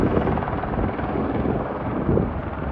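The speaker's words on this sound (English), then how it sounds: "Look at that way the helicopter's turning to one side. Must be a heavy load he's got." A helicopter carrying a heavy load over the Grand Canyon drones steadily with dense rotor rumble and wind buffeting, loud and continuous throughout.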